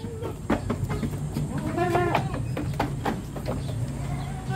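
On a goat farm, a single wavering goat bleat rises midway through a busy, noisy background of clatter and scattered knocks.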